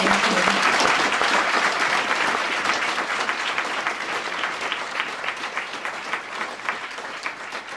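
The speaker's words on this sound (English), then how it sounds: "All right, let's give Stova a round of applause." An audience applauds finalists at a cup final presentation event, a dense sustained burst of clapping that starts full and gradually thins and fades over several seconds.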